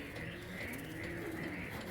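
Indian Kaldom pigeons, high-flying birds, cooing softly in a low steady murmur, with continuous faint background noise and no talk.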